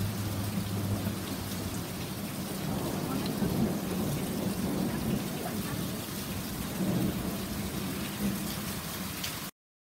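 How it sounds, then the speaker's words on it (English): A fast-approaching storm over a city in Nevada: steady heavy rain hisses on surfaces while low thunder rumbles continuously underneath, loud and unbroken for about ten seconds. "Storm is coming in pretty fast, guys."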